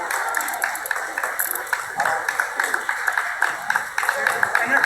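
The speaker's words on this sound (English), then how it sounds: "And they're clapping." Dense clapping from a crowd at an altar gathering, steady and fairly close, with voices mixed in throughout.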